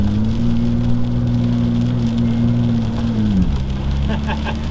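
Nissan GTR R35 on summer tires driving through snow, a steady engine drone with whirring tire noise that drops in pitch near the end, loud and close from inside the car.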